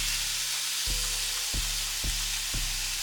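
Frozen food sizzles and fries steadily in a pan, with a few soft scraping thumps as it is turned over at regular intervals, close and continuous with no talking.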